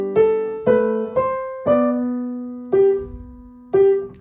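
Piano plays six separate chords from Bach's Minuet in G at a moderate pace, each with a detached low left-hand bass note struck and released rather than held, clear and close.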